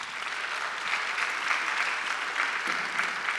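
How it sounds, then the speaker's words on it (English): An audience at a creator marketing conference applauds its panelists, with sustained, even clapping from a sizeable crowd filling the room at a steady level for the whole stretch. "I want to give a round of applause to our wonderful panelists."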